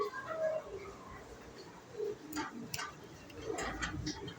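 Gorgoria male pigeon cooing softly in a few low, rolling phrases, with faint background clatter and brief sharp knocks near the end.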